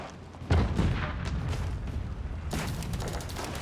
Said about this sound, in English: Cannons are advancing, trying to counter barrage culverins.